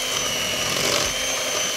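An electric mixer beating Kinder cookie dough after an egg is added, a loud, steady motor whir close by, continuous and unbroken.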